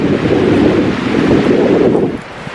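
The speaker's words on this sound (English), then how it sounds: "It is really windy up here" Strong wind gusting across an open field on a cold day, a loud steady rumbling roar buffeting the microphone throughout and easing slightly near the end.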